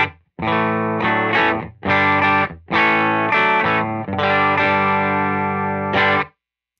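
Heavily fuzzed electric guitar chords through a Pelican Noiseworks and Spruce Effects Pelitaur GE fuzz pedal into a Benson Monarch Reverb amp, played in several loud bursts with short gaps, thick and saturated, ringing out before stopping.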